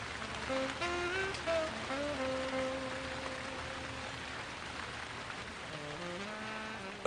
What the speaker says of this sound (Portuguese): A origem de tanta e tanta chuva.